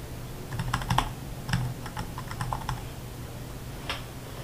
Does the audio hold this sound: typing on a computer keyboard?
yes